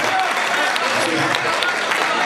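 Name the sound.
audience loud applause at a mushaira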